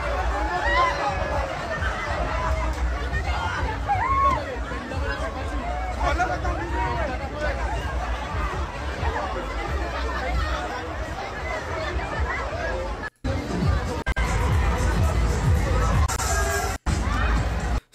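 Dense crowd chatter at the Foire du Trône funfair in Paris, a loud continuous babble of many voices with shouts and occasional bangs, close and unbroken apart from brief cuts.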